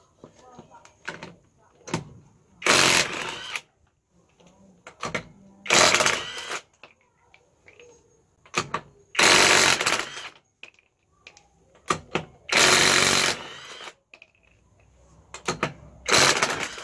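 Wheel removal on a Nissan X-Trail in a home garage: loud, close mechanical whirring bursts of about a second each repeat at intervals, separated by quieter clinks, handling noises and occasional talk.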